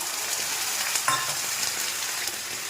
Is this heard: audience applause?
no